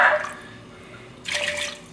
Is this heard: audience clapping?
no